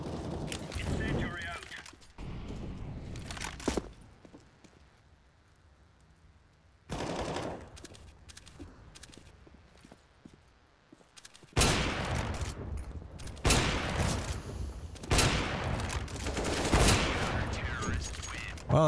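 Desert Eagle gunfire in CS:GO, bursts of sharp shots in clusters separated by quieter gaps, with heavier rapid firing in the second half.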